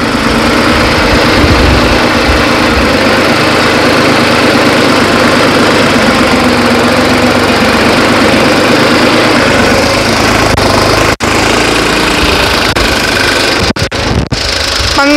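A New Holland 3630 turbo tractor, modified for more power, runs at a steady 1500 rpm, its diesel engine droning loud and close without a break.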